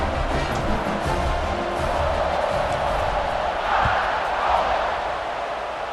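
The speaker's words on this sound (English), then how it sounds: "this crowd is buzzing after that last score" Football stadium crowd at a South Carolina vs Alabama game roars and buzzes steadily after a score, a dense, loud wash of cheering voices that swells slightly midway and never drops out.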